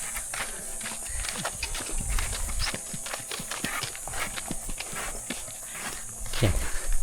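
Hooves of a horse hauling a load up a steep climb clop in a steady, close rhythm over a constant background hiss and hum.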